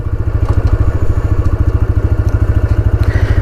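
A 2025 TVS Raider 125 motorcycle engine idles steadily with a close, loud, even thumping pulse and no talk over it.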